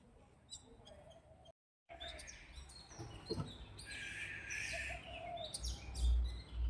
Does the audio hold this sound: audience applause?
no